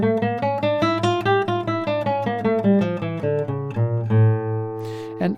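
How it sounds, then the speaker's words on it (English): A guitar plays the D harmonic minor scale beginning on A, one plucked rest-stroke note after another in an even, clean run that climbs and ends on a sustained note, with no voice over it. "And this is the D harmonic minor scale"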